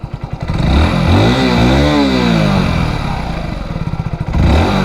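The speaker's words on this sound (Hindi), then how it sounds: "स्टार्ट करके पहले मैं आपको इंजन का साउंड सुनाता हूँ" A Hero Splendor Plus motorcycle engine fires up loudly nearby, then revs, its pitch rising and falling before settling back toward idle.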